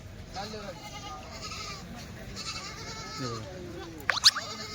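Goats bleat faintly amid a busy goat market after Bakri Eid, their calls mixed under crowd chatter and talk, with a sharper burst of noise near the end.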